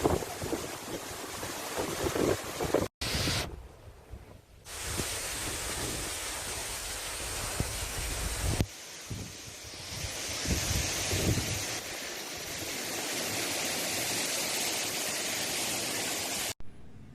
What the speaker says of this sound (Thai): การที่ลมแรงมากทำให้การถ่ายนี้ค่อนข้างลำบากนิดนึงนะครับ